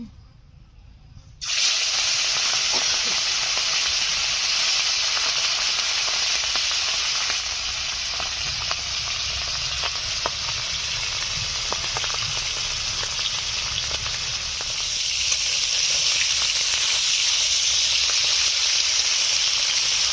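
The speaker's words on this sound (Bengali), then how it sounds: "মাছগুলো ভেজে নিচ্ছি।" Hilsa fish pieces hit hot oil in a pan and erupt into a loud, continuous sizzle and hiss that carries on steadily, swelling slightly near the end.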